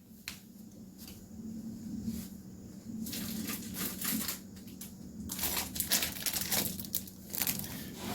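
Crinkly plastic rustling and crisp snapping as a new pack of cardboard gold penny sleeves is torn open and handled, close and continuous with bursts of sharper crackle.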